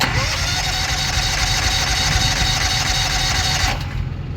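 A small engine cranking over with the choke engaged, a steady mid-pitched mechanical churn held loud and close for several seconds before it cuts off, in a farm setting.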